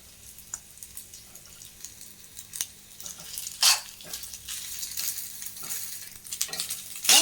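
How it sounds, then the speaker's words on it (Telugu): Cooked rice is stirred into fried grated raw mango in a pan for mango pulihora, with soft scraping and mixing strokes over a faint sizzle and a few louder spatula scrapes near the end. "ఇప్పుడు మనము ఇందులో రైస్ వేసి కొంచెం కొంచెం కలుపుదామండి"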